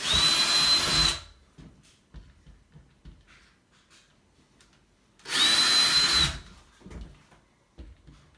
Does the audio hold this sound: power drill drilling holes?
yes